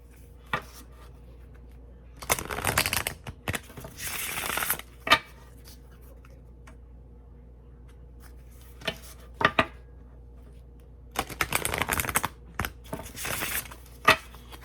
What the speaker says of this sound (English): I'm going to shuffle these because I haven't shuffled them yet.